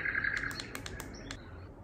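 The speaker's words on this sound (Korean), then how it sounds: "갑자기 새소리 나서 놀랐네요" A bird chirps in a quick series of bright, high tweets close by, with no talk over it.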